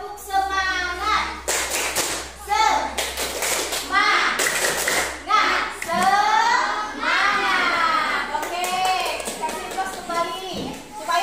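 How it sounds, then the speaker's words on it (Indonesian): A classroom of children performs the tepuk semangat chant, chanting together in rhythm with bursts of sharp group clapping and thumps, the claps coming in quick repeated clusters between sung phrases. "kita kasih tepuk semangat dulu ya sebelum kita masuk ke materi tadi penjelasannya"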